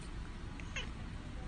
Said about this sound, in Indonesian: Kucingnya duet nyanyi bareng